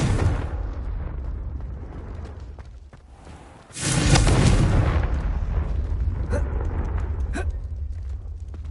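A Confringo spell goes off in the game Hogwarts Legacy, a heavy booming explosion with a deep rumbling roar that swells midway and then sustains over a low ambient drone.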